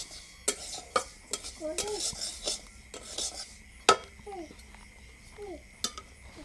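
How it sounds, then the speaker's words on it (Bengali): Freshly roasted sesame seeds tipped out of a kadai, with scattered scrapes, clinks and a brief rustling pour of seeds against metal, close and fairly quiet, with a few small squeaky chirps in between. "তিলটা ভাজা হয়ে গেছে,"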